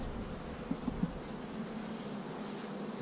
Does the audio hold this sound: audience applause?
no